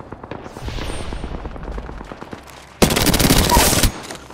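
Automatic gunfire in the battle royale shooter Apex Legends, played as Mirage: rapid, close bursts of rattling shots, then a denser, louder stretch of sustained fire that stops abruptly.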